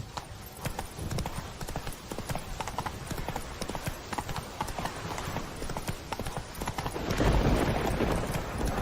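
Roach, the horse in The Witcher 3, gallops with rapid, rhythmic hoofbeats that stay close and steady, with a louder rush of movement near the end and no talking.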